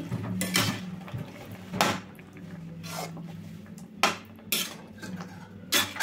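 Milk being stirred into a double ka meetha mixture in a pot, with a handful of separate spoon-on-pan scrapes and clinks at a close, moderate level and no talking.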